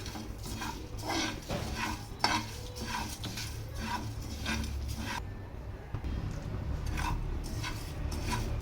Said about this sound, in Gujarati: દોઢથી બે મિનિટ માટે આપણે આને કન્ટિન્યુ હલાવતા હલાવતા ધીમા ગેસ ઉપર શેકશું